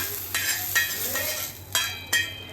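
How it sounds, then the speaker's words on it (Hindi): Garlic, onion, green chilli and tomato sizzle steadily in hot mustard oil as a tempering for dal, spices crackling, punctuated by a few sharp clinks of a spoon against a pan, close by. "हम इसमें तड़का लगा देते हैं"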